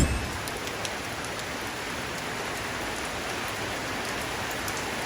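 Steady rain pours down outside a house in Antique, Philippines, a dense, even hiss of drops on surfaces that stays constant throughout with no voices over it.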